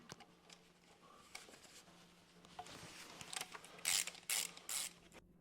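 Hand tools working loose the protective plate over the oil pan of a 4-speed AG4 automatic transmission (01M), giving quiet ratcheting clicks that build into several loud, sharp metallic bursts near the end, with no talking.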